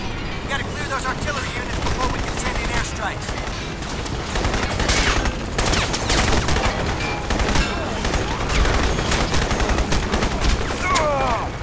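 Rapid bursts of gunfire and booming explosions in the video game Crysis, dense and loud, with a voice talking intermittently.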